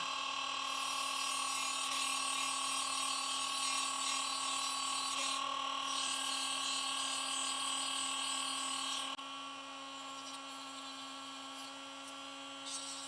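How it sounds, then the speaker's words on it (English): A Dremel rotary tool spins at high speed on 1/16 tubing for a model railroad switch machine throw wire, giving a steady, loud, close whine that drops slightly in level near the end. "So with the Dremel, we're just going to go all high speed here."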